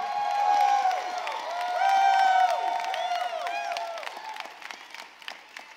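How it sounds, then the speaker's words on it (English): A keynote audience at a large conference event claps and cheers together, a dense wash of applause with shouts rising to a peak around the middle before gradually thinning into scattered claps. "Clap your hands and shout like you're going to live a very big life."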